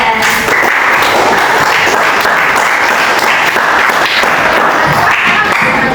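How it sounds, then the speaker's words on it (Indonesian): Students in a classroom clap together in a loud, dense burst of applause that stays steady throughout, with no one speaking over it. "Tepuk tangan untuk Mas Indra."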